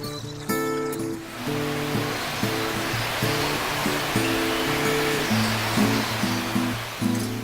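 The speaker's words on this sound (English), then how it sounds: "the water here cascades over the cliff in an unusual horseshoe shape" Water cascading in a horseshoe shape over the cliff at Haruru Falls in New Zealand's Bay of Islands, a steady broadband rush running continuously beneath prominent music.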